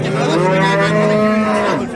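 A cow at a busy Turkish street market lets out one long, loud, close moo, rising and then falling over about two seconds.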